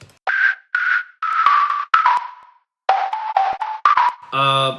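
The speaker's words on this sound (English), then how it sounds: "Next is this whistle lead." A breathy synthesized whistle lead made in FL Studio plays a short melodic phrase of sustained notes with pauses, bright and airy, ending on a buzzier synth chord.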